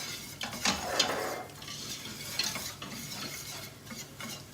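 A whisk scrapes and swirls through milk sauce for lasagne in a pan, steady close rhythmic stirring with light metallic clinks over a faint sizzle.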